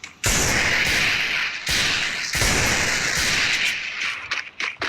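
Loud, close gunfire in a mobile shooter game, a few heavy bursts of shots with short pauses between them.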